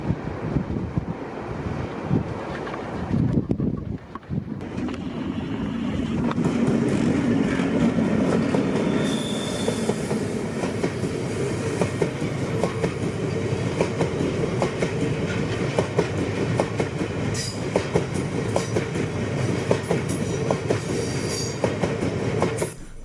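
An empty stock train rumbles past steadily with rhythmic clickety-clack of wheels over rail joints, accompanied by wind buffeting the microphone, loud throughout.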